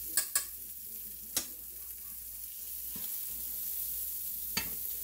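Pork sausage frying in a pan, a quiet steady sizzle with a few sharp spatula clicks and scrapes scattered through, no speech.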